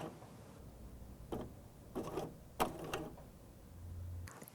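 A BERNINA L 660 overlocker makes a few quiet mechanical clicks and whirs as it sews a single slow stitch, followed by a soft low motor hum near the end.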